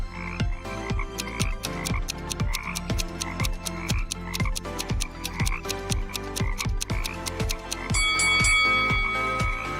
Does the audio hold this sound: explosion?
no